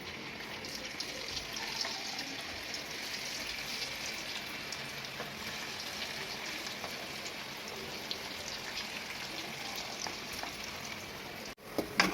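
Cauliflower pieces deep-frying in hot oil for cauliflower chilli give a continuous, even hiss and crackle that stays fairly quiet, ending with a brief clatter.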